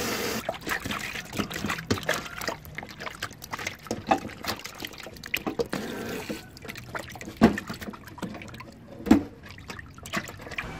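Running tap water splashing and trickling steadily, close by, with irregular louder splashes as raw chicken is rinsed under the flow.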